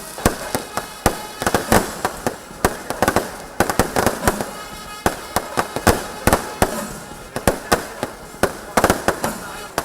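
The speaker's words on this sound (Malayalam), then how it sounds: "പകരം വാനിൽ വർണ്ണവിസ്മയം തീർക്കുന്ന ഡിജിറ്റൽ വെടിക്കെട്ടാണ് നടന്നത്." Electric digital fireworks at a church feast crackle and pop in rapid, irregular bursts, sharp and fairly loud throughout, with no talking.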